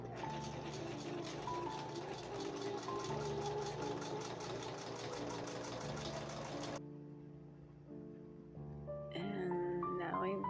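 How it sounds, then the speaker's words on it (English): A sewing machine stitches a skirt yoke for a Queen of Hearts costume with a steady motor hum and rapid needle rhythm, then stops and starts again briefly, with talking alongside. "Now I'm sewing the yoke"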